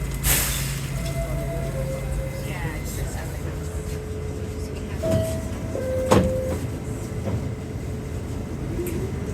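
A New York subway train runs at the 72nd Street station with a rumbling roll, squealing tones and sharp metallic clanks, loud and near, with people speaking over it.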